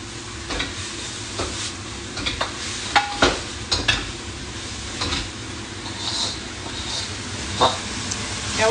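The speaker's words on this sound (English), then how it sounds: "I'm going to put the mushrooms in. I want to fry those up a little bit." Pine mushrooms fry in a pan with a constant crackling sizzle, while utensil scrapes and stirring knocks land at irregular intervals, close and fairly loud throughout.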